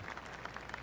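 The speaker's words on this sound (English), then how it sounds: "Oh, golf clap." Polite golf clap from a gallery crowd in the video game PGA 2K23 after a pitching wedge shot, a steady soft patter of many hands lasting under a second.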